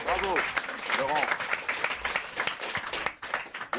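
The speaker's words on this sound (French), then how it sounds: "N'applaudissez pas, c'est mon métier." Studio audience of a French talk-comedy show gives a short burst of applause that mingles with a man's speech and laughter, fairly faint and tapering off near the end.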